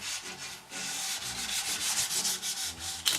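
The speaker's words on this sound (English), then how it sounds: "Now I'm just going to sand it a bit to try to work in some sawdust." Steady back-and-forth sanding over a glued wood lamination to work sawdust into the glue line, a close, continuous rasping rub with a small knock at the end.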